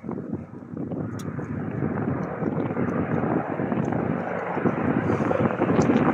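A helicopter flies overhead outdoors among pine and spruce trees, heard as a steady broadband roar that swells slowly, with wind buffeting the microphone and faint voices in the background.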